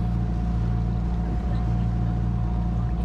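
A sailboat motor-sailing on glassy water in the Marlborough Sounds, New Zealand, its engine giving a steady low drone throughout, close and constant, with no other sound standing out.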